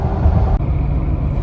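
Jeep Gladiator engine cruising steadily at about 2,000 RPM, a continuous low rumble with road noise from inside the cab, fairly loud and even throughout.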